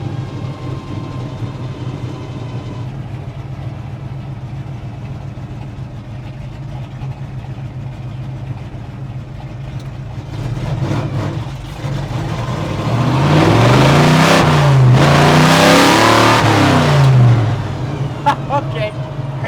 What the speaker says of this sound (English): There's a drag car.